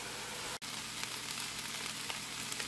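Egg dish simmering in a pan, a steady bright sizzle and crackle with faint spatters throughout, broken by one brief dropout, close and constant with no talk.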